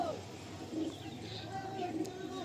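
A female pigeon coos softly in a few low, throaty calls, faint and close against quiet background murmur.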